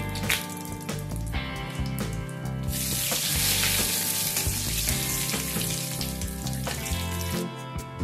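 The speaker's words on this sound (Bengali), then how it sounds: "ফোড়নের জন্য দিয়ে দেবো গোটা জিরে, একটা তেজপাতা, একটা গোটা শুকনো লঙ্কা, দুটো ছোট এলাচ আর একটা দারচিনি স্টিক" Whole cumin, a bay leaf, a dried red chilli, green cardamom and a cinnamon stick frying in hot oil for tempering, a steady loud sizzle with crackling that runs the whole time and swells midway, with no talking.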